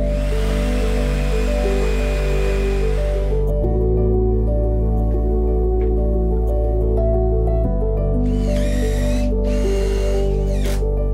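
A power drill whines in bursts while driving a screw through shiplap boards into furring strips on a van conversion wall, close and loud over a constant low mechanical drone.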